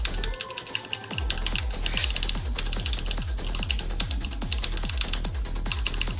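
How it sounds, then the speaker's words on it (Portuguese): Rapid, clattering computer keyboard keystrokes during a Roblox game session, a steady stream of sharp clicks with no pauses, close and fairly loud, alone without talk. "só o barulho do teclado."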